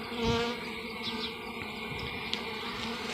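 Honeybees swarming around a hive being relocated, with a dense, steady buzzing drone close by and individual bees whizzing past the microphone.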